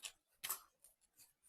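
Scissors snipping through packaging, several quiet short cuts spaced irregularly, one sharper snip standing out.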